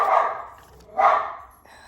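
Two sharp, close dog barks ring out about a second apart, loud and clear with a quiet pause between them and no one talking.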